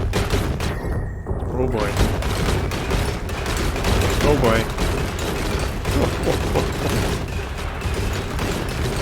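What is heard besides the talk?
nuclear reactor meltdown explosion in video game Oxygen Not Included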